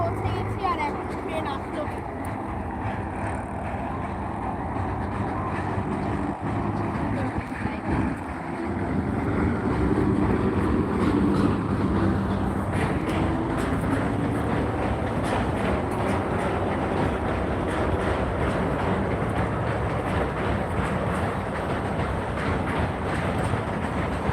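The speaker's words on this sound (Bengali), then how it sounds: "ওই ট্রেনটা যে দেখলাম ওই ট্রেনটা এটা না" A steady rumbling train passing with continuous rolling rail noise and wind buffeting, loud and close throughout.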